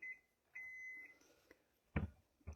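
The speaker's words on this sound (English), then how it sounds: "there's my buzzer" An oven timer beeps in a home kitchen while cornbread is being served, giving two faint, steady electronic tones followed by soft clattering handling sounds nearby.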